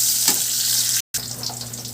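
Garlic frying in cooking oil in a pan for chicken adobo gives a steady, close hiss and crackle, broken by one brief dropout near the middle before the sizzle resumes.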